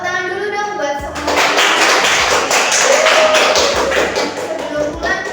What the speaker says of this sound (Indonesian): Tepuk tangan dulu dong buat semua.